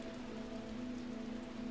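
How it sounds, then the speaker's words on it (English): Steady rain falls in a rainy level of the 2014 video game The Talos Principle, a dense, constant patter of drops with a faint underlying hum and no voices. "I don't remember there ever being a rainy level in this game."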